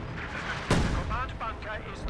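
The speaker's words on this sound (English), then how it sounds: "And the artillery spam has begun." Artillery fire in Company of Heroes 2 lands as a single sharp, booming blast partway through, set among softer battle noise while someone talks over it.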